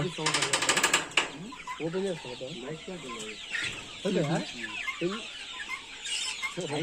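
Country chickens clucking close by on a poultry farm, repeated throaty calls rising and falling, with a rapid rattling burst at the start and chick peeps in the background.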